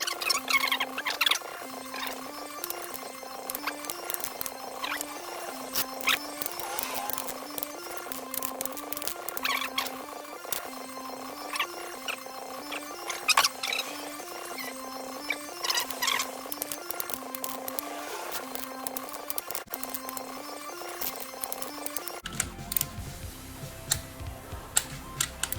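A torque wrench tightens piston bolts on a Triumph TR6 engine being rebuilt, giving off steady, evenly spaced ratcheting clicks in a quiet workshop with no talking.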